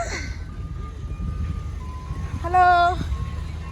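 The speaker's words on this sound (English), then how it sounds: "Ice cream truck." Ice cream truck jingle on a street in Jamaica, a short bright melodic tune rising briefly over traffic rumble and street noise, fairly close.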